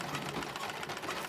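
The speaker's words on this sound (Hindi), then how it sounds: "जब ये मुड़ती है तो सिलाई मशीन खुद ब खुद चलने लगी" A sewing machine in a film scene starts running on its own, giving a faint, steady mechanical whir with a fast rhythmic chatter across the whole short stretch.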